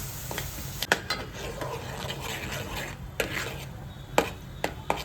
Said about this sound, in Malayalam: ഇതൊന്ന് കാരമലായിട്ട് വരുന്നുണ്ട്,